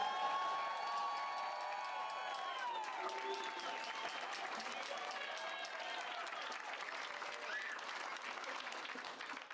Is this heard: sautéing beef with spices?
no